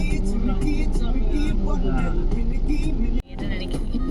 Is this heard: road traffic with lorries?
yes